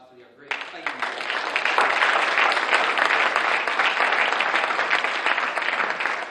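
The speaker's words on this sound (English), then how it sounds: "Give a round of applause to our great excitement." Sustained, loud applause from an audience at a university gubernatorial debate on the FAU Boca Raton campus, starting abruptly after a brief moment of near quiet and holding steady to the end.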